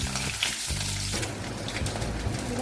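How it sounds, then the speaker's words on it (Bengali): Eggs fry in oil in a pan on a gas stove over a high flame, making a steady, close, crackling sizzle that runs throughout with no talk. "গ্যাসের ফ্লেমটা জোরে করে আমি ডিমগুলো ভেজে নিচ্ছি।"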